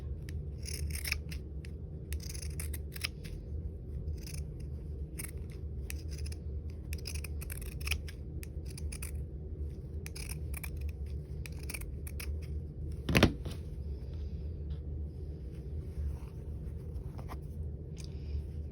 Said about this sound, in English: I'm going to use my pinking shears.